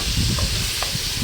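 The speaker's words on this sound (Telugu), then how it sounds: "ఆనియన్స్, టమాటోస్ అంతా బాగా ఫ్రై చేసుకోవాలి" Onions and tomatoes frying in a pan for egg and tomato curry, a dense, steady sizzle with a couple of light stirring clinks, close and loud over the short stretch.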